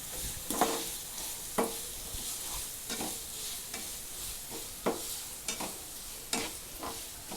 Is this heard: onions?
yes